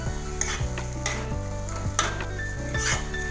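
Spice masala frying in oil in a pan is stirred, with a steady sizzle broken by repeated scraping strokes and clinks of the spoon against the pan at close range.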